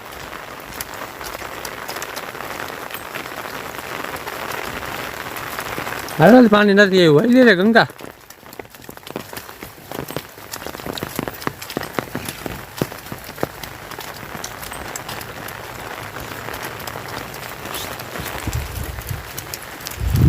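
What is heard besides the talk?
heavy rain falling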